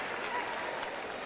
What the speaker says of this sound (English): a huge eruption from the crowd